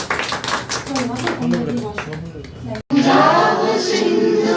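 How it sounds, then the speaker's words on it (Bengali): An audience claps hands at an Independence Day celebration, a burst of loud, dense applause breaking in after sung voices and continuing steadily to the end. "সবাই সবার জন্য হাত তালি।"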